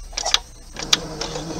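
A sewing machine stitches backward on a thumb-hole cuff in two or three short, close mechanical whirs separated by brief pauses.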